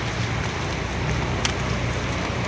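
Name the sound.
heavy rain falling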